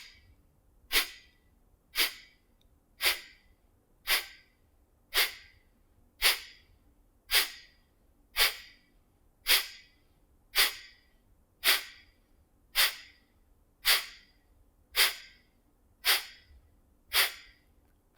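Kapalbhati skull shining breath, a forceful yoga breathing exercise: sharp, rhythmic nasal exhalations, about seventeen steady puffs roughly one per second, close and clear over a quiet background.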